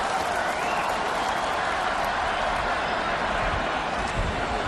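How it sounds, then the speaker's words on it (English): A rugby crowd at Lansdowne Road during the 1991 Rugby World Cup match between Ireland and Japan, doing a wave, with a broad, steady roar and cheering from a large stadium audience that holds constant throughout. "in the background, the Irish Lansdowne Road wave, entertaining the crowd."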